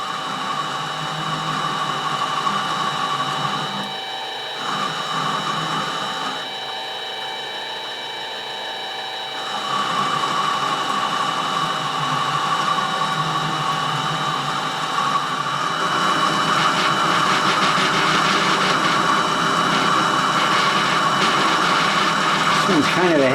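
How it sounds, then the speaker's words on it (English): Mini lathe cutting a taper on a pellet gun part without the tailstock; a steady motor whine with a bright cutting hiss that grows louder and rougher in the later part, heard close. "I'm just trying to put a taper on this"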